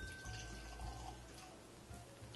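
Stagg Jr. Batch 7 barrel-proof bourbon poured into a glass, a soft, close trickle with faint drips, quiet and without voices.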